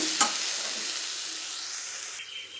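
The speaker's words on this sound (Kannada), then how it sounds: "ಇದಕ್ಕೆ ಸ್ವಲ್ಪ ನೀರು ಹಾಕ್ಬೇಕು." Soaked tamarind pulp with a little turmeric sizzles steadily in a hot pan as water goes in, with a sharp splash near the start and a brief clink of stirring near the end; no talking.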